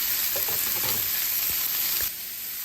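Sausages frying in a pot while making gumbo, with a steady loud sizzle throughout, a few soft scrapes and clinks of a spoon stirring, and the sizzle easing slightly near the end.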